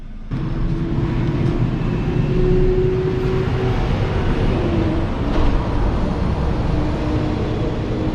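Loud trucks rumble past outdoors in a continuous, heavy roar that holds for several seconds at close range, with no one talking.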